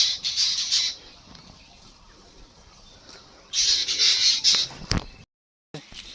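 Birds squawk loudly and close by in a Muksudpur village in Gopalganj during the rice harvest, with a burst of shrill calls at the start, a quieter stretch, then another busy run of squawking.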